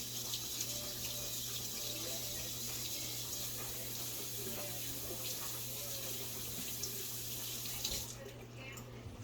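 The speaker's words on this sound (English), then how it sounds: "I always like to go wash my hands with the salt" Water runs steadily from a sink tap while hands are washed with salt, a faint continuous splash and hiss that cuts off near the end.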